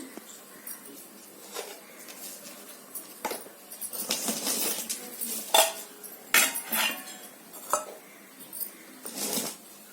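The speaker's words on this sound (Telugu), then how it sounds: "హాఫ్ కేజీ శనగపిండికి పావు కేజీ వరిపిండి వేసి కలుపుకోవాలి" Gram flour and rice flour being mixed by hand in a bowl, with irregular clinks and scrapes of a utensil against the dish rising and falling, close, with no talk.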